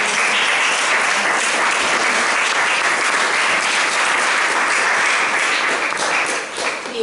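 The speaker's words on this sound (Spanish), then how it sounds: "un aplauso." A large audience at a talk on ecology and feminism claps in a dense, sustained round of applause that stays loud and steady before easing slightly at the very end.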